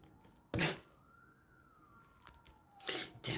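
Police sirens wail outside, faint and distant, one tone rising and falling slowly, with a few sharp nearby thumps and knocks louder in the foreground.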